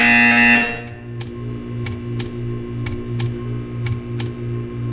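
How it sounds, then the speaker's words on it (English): A loud electronic buzzer from the video game Portal 2 blares for about half a second, then a soft ticking pulse repeats evenly with faint tonal hum beneath. "You will hear a buzzer."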